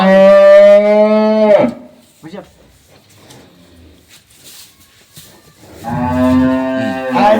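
Two long, loud moos from a small dairy cow, one at the start and another near the end, separated by a quieter stretch of faint rustling.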